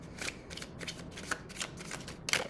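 Small tarot cards are shuffled close up in quick, uneven riffling bursts, soft papery flicks and snaps with brief pauses between.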